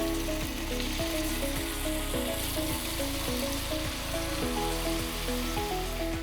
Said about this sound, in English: Now I'm going to add the salmon. It also has some olive oil in the skillet to prevent